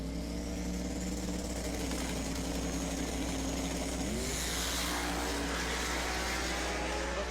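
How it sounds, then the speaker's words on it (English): A Camaro and a full-size Chevy sedan at a street car drag race, heard as steady engine drone under a loud background rumble, with a rising rev sweep partway through as an engine climbs in pitch, no voices. "The full-size Chevy sedan will stage up right side for Alexander."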